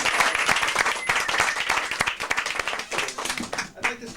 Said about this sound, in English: so please give a big round of applause and welcome Glenn Bishop.